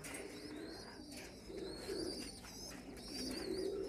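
Several pigeons coo softly in repeated low throaty phrases, with faint chirps and tweets overhead against a quiet background.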